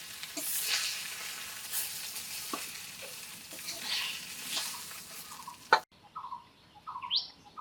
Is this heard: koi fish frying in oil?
yes